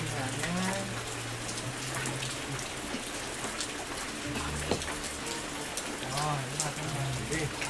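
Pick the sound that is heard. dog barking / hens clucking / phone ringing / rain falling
rain falling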